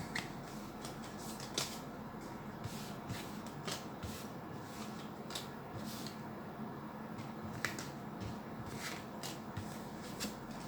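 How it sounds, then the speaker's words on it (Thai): A deck of tarot cards being shuffled by hand, a steady papery rustle with light riffling clicks and occasional sharper snaps continuing throughout, close and fairly quiet. "ล้างไพ่แล้วก็หยิบไพ่ก่อนนะคะ"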